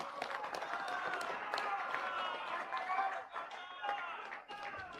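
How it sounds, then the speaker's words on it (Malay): Political rally audience at the launch of Parti Wawasan Negara applauds in a steady, fairly distant wash of clapping mixed with cheering voices throughout. "Gerakan, berikan tepukan kepada gerakan."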